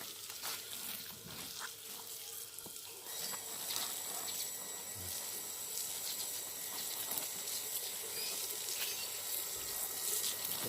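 Coconut bonsai seedlings in pots being watered, a soft continuous splash and trickle of water pouring onto soil, fairly close, with faint buzzing of insects in the background and no talk.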